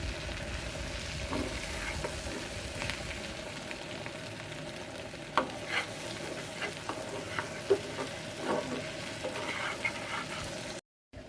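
Rice and mashed-vegetable ingredients fry and are stirred in a pan, giving a steady close sizzle broken by light scraping and knocking strokes, with no talk before a brief cut near the end.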